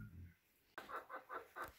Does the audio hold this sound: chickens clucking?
yes